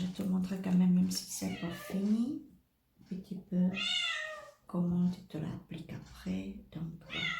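A house cat meows a couple of times close by, in short rising cries that cut in between stretches of ongoing talk.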